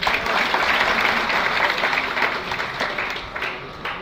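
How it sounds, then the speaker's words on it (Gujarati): A crowd at a career guidance and inspiration event applauds steadily for a speaker, the clapping dense and continuous at fairly close range before thinning slightly toward the end, with no talk. "વિજયભાઈ સાહેબ માટે ખૂબ ખૂબ તાળીઓ."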